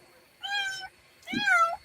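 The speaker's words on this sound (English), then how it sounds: "Oh, cats are, yes. Cats are gross." A cat meows twice up close, two clear, drawn-out tonal cries each lasting under half a second, separated by a short pause.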